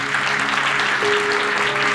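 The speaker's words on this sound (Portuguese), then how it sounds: "Aplauda o Senhor" Church congregation applauding the Lord after a sermon line, with dense, continuous clapping from a large crowd filling the whole moment and a faint tonal hum underneath.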